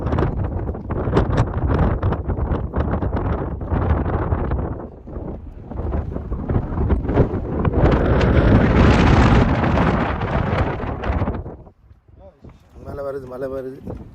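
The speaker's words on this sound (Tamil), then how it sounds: "சரியான தூசி காத்து." Strong, dusty wind roars across the microphone near the summit of Mount Noor, a loud continuous buffeting rush that swells and fades, with a person speaking beneath it.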